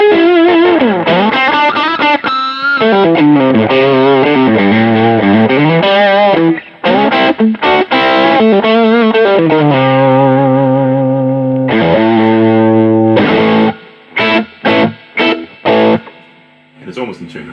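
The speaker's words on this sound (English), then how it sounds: "But it's just a really nice fat distortion, and it works great on the whole range." Electric guitar with a single microphonic pickup played through thick, fat distortion and a touch of amp reverb, sustained chords and bending lines giving way to short choppy stabs near the end.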